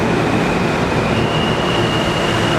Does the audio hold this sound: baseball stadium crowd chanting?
no